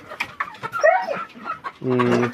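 Chickens cluck and squawk in short bursts while being herded, close by, with a brief voice-like sound mixed in near the end.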